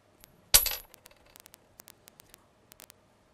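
Two coins tossed together for a classroom probability demonstration land with a single sharp clink, followed by faint scattered ticks as they settle in a quiet room.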